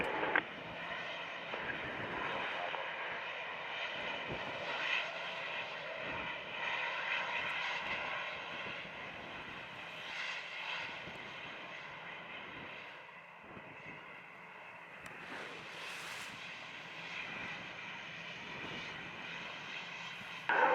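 Airplane engines roar at Montego Bay airport in Jamaica, a steady, sustained drone that rises and falls slightly and fills the whole stretch without a break.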